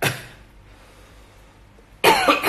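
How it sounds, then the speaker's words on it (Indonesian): A sick man coughs harshly in a hospital, with one short, loud, rough burst at close range that ends abruptly after a quiet pause. "Pesan saya batuknya baru hari ini sih, parah banget hari ini tuh"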